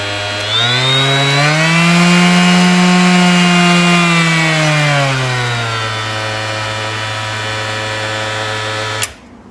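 A DeWalt 20V palm sander runs continuously up close, its motor whine rising in pitch as the speed dial is turned up, then holding steady before cutting off abruptly at the end.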